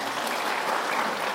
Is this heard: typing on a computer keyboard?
no